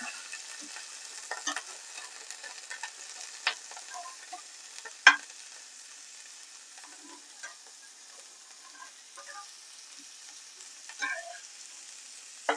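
Mini hamburger patties fry in a pan with a quiet, thin sizzle, broken by a few sharp clicks and pops of the utensil pressing them down, close by and without talking.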